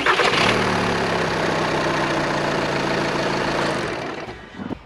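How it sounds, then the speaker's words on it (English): A 2009-2014 VW TDI diesel engine cranks and settles into a steady, loud idle close by during a service, with its rumble easing slightly near the end. "let's crank it first"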